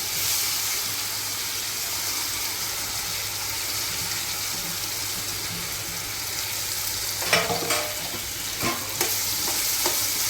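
Sliced onion fries with ginger-chili chutney in a hot pan, giving off a steady close sizzle while a utensil stirs it, with a few sharp scrapes and clinks near the end.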